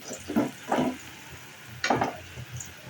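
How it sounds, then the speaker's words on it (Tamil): Onions sauté in a pan for brinjal thokku, a faint sizzle under a few clear stirring scrapes and clinks of a spoon against the pan, close by, in short bursts with quiet gaps between them. "பாருங்கள், வெங்காயம் எப்படி நல்லா வதங்கிடுச்சு."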